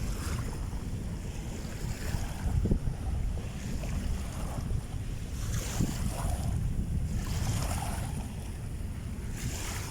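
Steady wind blows across a beach on Manila Bay, a constant roar buffeting the microphone in gusts, with surf and open-water ambience underneath and no talking.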